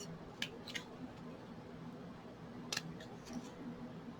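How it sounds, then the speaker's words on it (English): Sharp scissors snip through a cardboard egg carton being cut into flower shapes, giving a few crisp cuts near the start and another pair about two-thirds through over a quiet room hum. "You're going to need some sharp scissors to do this."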